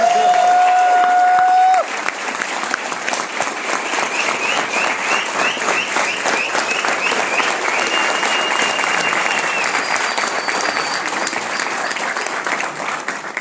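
A seminar crowd gives sustained, dense applause, loud and steady throughout, with a brief tone at the start and faint background cheering mixed in.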